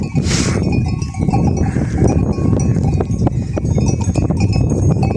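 A flock of sheep feeds outdoors in harsh winter conditions, with a bell clanking on and off, occasional bleats and shuffling hooves close by over a steady low rumble.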